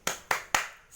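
A class chanting the 'tepuk semangat' clapping rhythm: three sharp, evenly spaced hand claps close by, crisp and moderately loud with quick decay, no talking.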